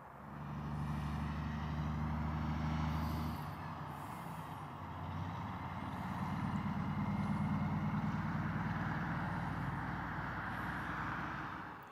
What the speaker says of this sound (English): just listening to the hum of the tires of all the trucks fly by here